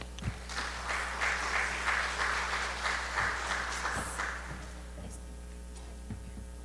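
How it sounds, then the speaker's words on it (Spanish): An audience at a university social sciences and humanities research meeting in Costa Rica applauds to welcome a guest speaker, a steady moderate wash of clapping that swells, then fades out over a low hum and scattered thumps. "Recibimos con un fuerte aplauso,"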